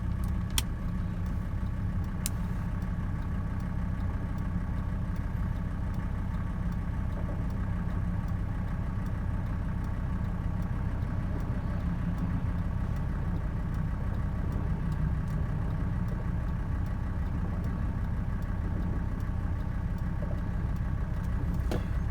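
A 1985 Mercedes 300D sits at a traffic light, its diesel engine idling in a steady, low, rumbling clatter that carries on without a break from inside the car.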